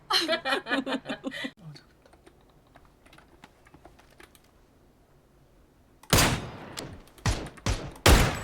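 Bursts of gunfire in the PUBG video game, a dense rattling volley after a quiet stretch of faint clicks, loud and close, with a voice talking at the start.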